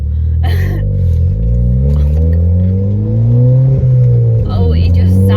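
Ford Fiesta ST engine revving loudly up and down, pitch rising and falling in repeated sweeps close to the listener, with brief voices or cabin noise over the top.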